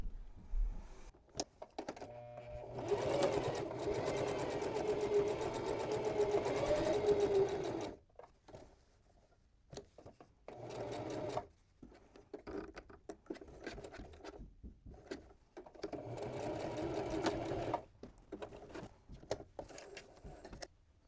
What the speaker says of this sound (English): I'm going to pivot and sew toward where the 2 lines cross, and that's where I'm going to stop.